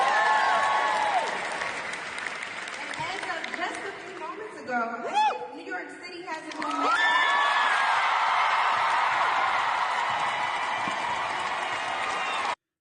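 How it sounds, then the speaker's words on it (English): Crowd cheering and applause at an election night event, a loud roar of clapping and whoops that dips briefly while voices and shouts come through, then swells back to a sustained full cheer. "So they're cheering for a guy, Jay Jones, the Attorney General in Virginia"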